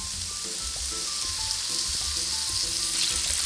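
Shrimp frying in a little oil in a pan for Chinese-style shrimp fried rice, a steady close sizzle with faint stirring clinks, no voices.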